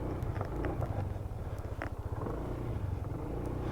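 A 2020 Yamaha TriCity 125 three-wheel scooter accelerates hard from a standstill, its engine hum fairly faint under rushing wind noise.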